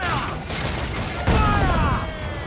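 Pirate ship cannons fire in a naval battle in Assassin's Creed IV: Black Flag, a dense rolling barrage of booms and gunfire over shouting voices.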